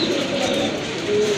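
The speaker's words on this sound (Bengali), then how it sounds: "প্রথমে আপনারা দেখতে পাচ্ছেন এক জোড়া হোয়াইট বিউটি হোমা কবুতর।" A pair of White Beauty Homer pigeons coo softly and steadily at close range over light background noise, with no talking.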